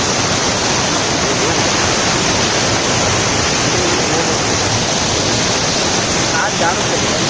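Water pours over a waterfall in a dense, loud, unbroken roar that fills the whole stretch with no pauses or clear voices.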